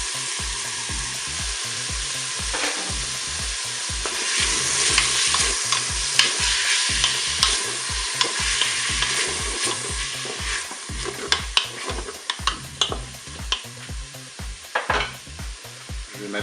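Onions frying in a Cookeo multicooker for a light goulash, a steady close sizzle with a rhythmic spoon scraping the pot, growing busier with sharp spatters and clacks toward the end, no one speaking.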